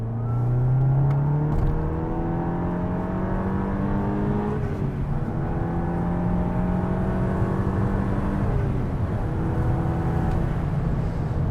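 An Audi TT with a 2-litre engine pulls hard in third gear, its engine note rising steadily with a strong, continuous drone, easing briefly before climbing again, loud and close without talk.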